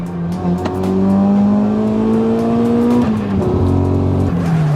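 Supercharged Honda Accord Euro R engine running loud and strained under load, with a harmonic drone that stutters and drops in pitch midway, suggesting a misfire, with no talk over it.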